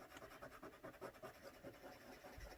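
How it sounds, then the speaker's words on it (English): A Q-tip pushes pastel colour across textured paper in a wet-media test, making a soft, continuous scratchy rubbing with quick repeated strokes, faint and close up. "I'm just using a Q-tip to push the colour along the paper."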